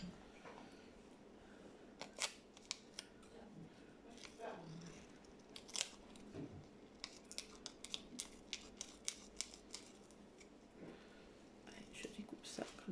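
Quiet snipping of scissors through paper, several short crisp cuts scattered irregularly, with soft whispered talking in the background.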